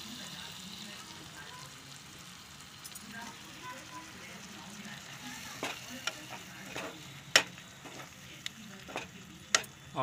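Yogurt cooks into paneer biryani masala in a pan with a soft, steady sizzle, and clear clinks and scrapes of a spoon against the pan stand out toward the end.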